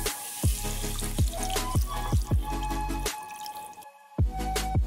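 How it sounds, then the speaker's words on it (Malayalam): Water is added to a brinjal dish while it cooks, making a quick series of close, hollow plops and drips in an uneven rhythm, with no one talking. "ഇനി നമുക്ക് വേണ്ടത് 1 കപ്പ് വെള്ളമാണ്"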